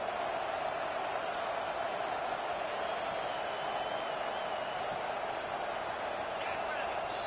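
Steady roar of a stadium crowd in a college football video game, a loud continuous wash of noise that stays constant throughout, with no distinct cheers or breaks.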